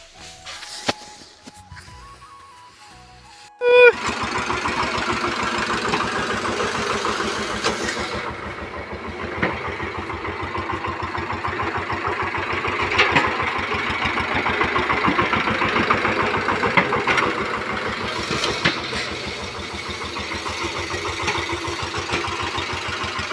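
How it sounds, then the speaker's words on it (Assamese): A tractor engine runs for threshing paddy, starting with a loud burst after a few seconds of quiet and then chugging steadily in a close, rough idle that persists to the end. "আজি মৰণা মেলিছোঁ মৰণা দিম আজি ট্ৰেক্টৰেদি"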